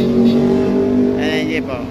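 A jeepney rumbles past close by on a road with a steady engine drone, while someone talks over it.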